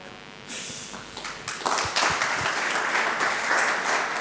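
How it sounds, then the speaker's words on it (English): An audience at a fintech leaders event applauds a speaker coming on stage, the clapping starting thin and swelling into a full, steady round of applause. "Clap it up."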